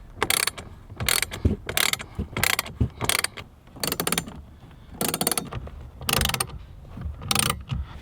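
A ratchet tightens stainless bolts on a Tacoma 3rd Gen center console panel, giving about nine bursts of rapid clicking close by, each lasting roughly half a second and separated by brief pauses, with no talking.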